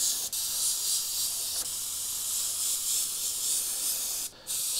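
An airbrush sprays a light dusting of paint over a paper template, a steady close hiss with a couple of brief breaks where the spray stops for an instant.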